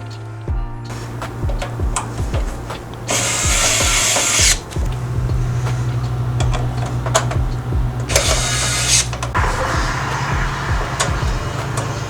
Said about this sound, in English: So 8 screws will be installed here, cinching this motherboard into its case for its future home.